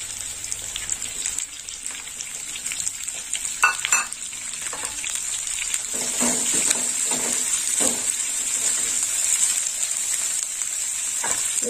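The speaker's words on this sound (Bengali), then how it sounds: "পেঁয়াজটা একটু ভাজা হবে লাল লাল করে।" Chopped onions cut into fairly large pieces fry steadily in a pan as they brown, with a continuous bright sizzle and occasional stirring scrapes, close and fairly loud with no voices.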